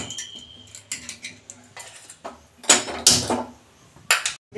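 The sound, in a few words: opening the lid of a pressure cooker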